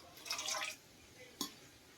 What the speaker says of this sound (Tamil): அதுக்கு முன்னாடி கொஞ்சமாக தண்ணி ஊற்றிக்குவோம்